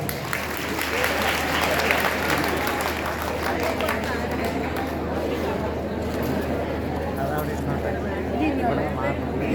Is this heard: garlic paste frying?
no